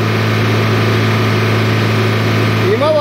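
An old, worn-out R1-301 combine harvester engine, its fuel filter just replaced, runs at a steady, even drone throughout, with a voice speaking over it near the end.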